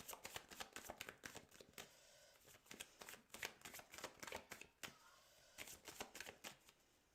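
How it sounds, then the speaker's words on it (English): Tarot cards are shuffled repeatedly at close range, with rapid riffling and flicking bursts separated by short pauses, fairly soft overall. "I just want to give the cards a good shuffle."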